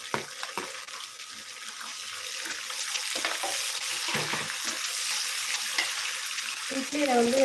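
Onions for idli upma sizzle steadily in a hot pan while a spoon stirs them, a loud continuous frying hiss up close with brief scraping clinks near the end.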